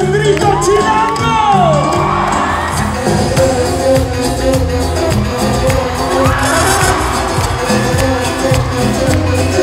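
Concert crowd at the Auditorio Nacional during a show, shouting, whooping and cheering loudly in overlapping bursts, with a rising collective yell and music underneath.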